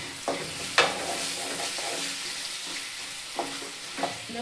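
Tomatoes and onions sauté in a pan for coriander chutney, a soft steady sizzle with a few sharp clinks and scrapes of a spoon stirring, close and fairly quiet, no voices.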